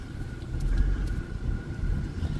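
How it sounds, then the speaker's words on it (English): Car interior rumble while turning during a food-delivery drive, a steady low road and engine drone with a faint whine running throughout. "Let's get this car turned so we can get that sun out of the freaking windshield."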